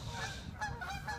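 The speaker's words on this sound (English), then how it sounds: "There's geese flying. I guess they look like Canadian geese" Canada geese honking as they fly over near home, a steady run of overlapping nasal honks, fairly close and continuous with no talk.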